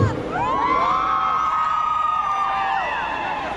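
Concert crowd at the Cumbión in Mexico City's Zócalo in 2023 greeting a band: loud, sustained cheering and whooping with piercing whistles that swoop and hold across the whole moment, seemingly close-miked in the open-air plaza.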